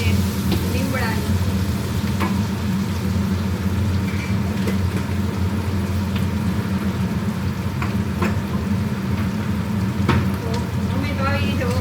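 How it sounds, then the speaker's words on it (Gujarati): Spices and curry leaves fry in hot oil for a tempering, giving a continuous close sizzle and crackle with scattered sharp pops, alongside a steady low background hum. "અમે તો આવી રીતે વઘારીએ છીએ"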